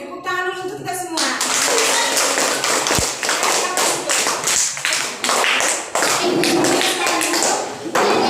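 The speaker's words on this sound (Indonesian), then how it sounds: "tepuk tangan dulu untuk kita semua" A classroom of children in an Indonesian civics lesson claps together, loud sustained applause that fills the whole stretch after a brief opening moment, with a few sharp thumps mixed in.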